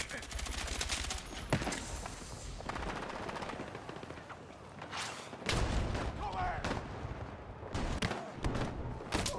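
Rapid automatic gunfire and single shots crackle through a Battlefield 6 beta match in Rush mode, in bursts of varying distance, with a player talking over the action.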